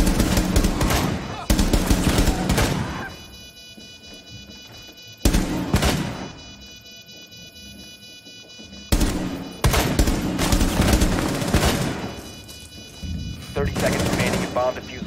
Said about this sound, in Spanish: Entré disparando, bro.